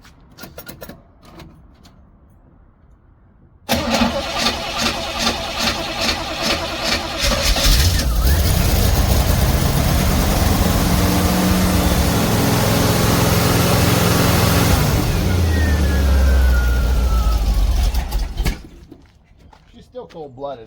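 An old car that has sat unused for about a week cranks, catches and starts, then settles into a loud, steady idle close by, with people talking briefly before it starts.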